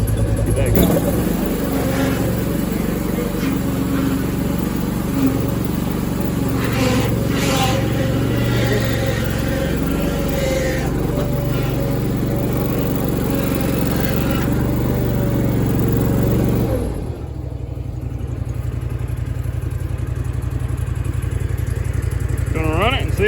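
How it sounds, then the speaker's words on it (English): A Toro Dingo compact utility loader's engine runs at a steady, loud idle for most of the stretch, then drops sharply in pitch and level toward the end. "Gonna run it and see if it leaks."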